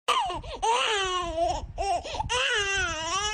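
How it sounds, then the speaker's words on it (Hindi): A baby cries in loud, wavering wails broken by short gasping pauses, close and alone without other voices. "बच्चे की रोने की आवाज है"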